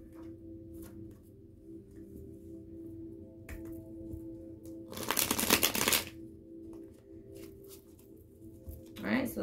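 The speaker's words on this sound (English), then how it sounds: "Shuffle it one more time." A deck of tarot cards is riffled in a short burst midway, with another brief shuffle at the end, over a quiet low hum.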